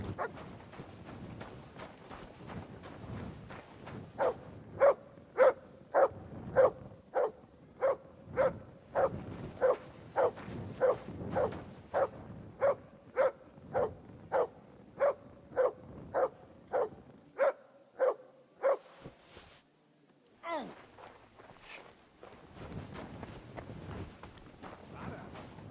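Dog in Kingdom Come: Deliverance 2 barking on command, a long steady series of evenly spaced sharp barks, followed by a brief whimper after they stop.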